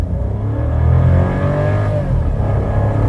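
A car launches hard from a standstill in a 0-100 km/h run, the engine revving and pulling upward loudly with a gear change partway through before climbing again.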